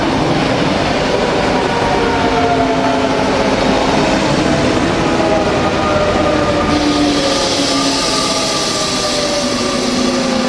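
A TER regional train runs along the coastal railway near Monaco, a loud continuous rolling rumble with rising and falling whines from the wheels and motors as it passes close by.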